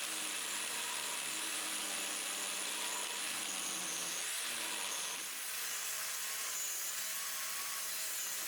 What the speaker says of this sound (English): There is a bit of unorthodox use of the angle grinder here